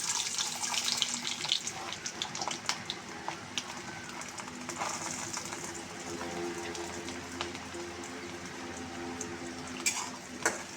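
Whole garlic cloves sizzle and crackle in hot oil in a wok, a steady close frying hiss with scattered pops, no talk over it.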